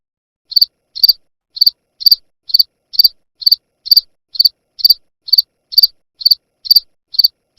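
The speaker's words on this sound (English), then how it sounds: "Crickets?" Crickets chirp in a steady, evenly spaced rhythm of crisp pulses about twice per second, loud and clear against complete silence.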